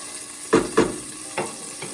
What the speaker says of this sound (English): So we'll get that garlic cooking just a little bit.